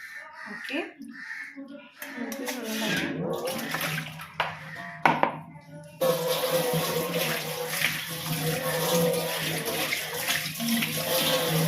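Running water splashes as chicken meat is washed in a bowl of fresh water in a home kitchen, steady trickling and sloshing near the microphone, starting sparse and then flowing continuously, with a voice talking over it at first.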